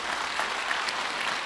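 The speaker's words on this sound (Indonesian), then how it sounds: "Tepuk tangan dong buat Tuhan" A church congregation breaks into brief applause during a sermon, a steady, fairly loud wash of clapping for the whole short moment.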